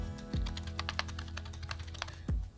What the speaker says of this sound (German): Nun werde ich die Knoblauchzehe auch klein hacken.